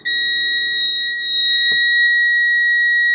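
A multimeter continuity tester gives one sustained high electronic beep while checking a new wire for a Kenwood TS-2000 radio filter install, loud and close, holding for the whole stretch.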